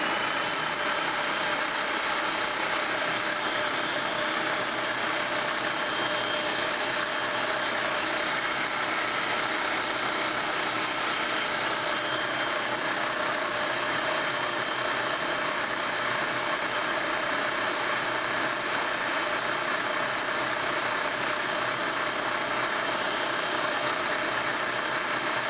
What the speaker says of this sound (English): And I just want to beat this for like about a minute.